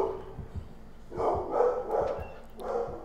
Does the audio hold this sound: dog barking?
yes